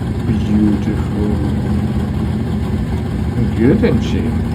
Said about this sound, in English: Good engine.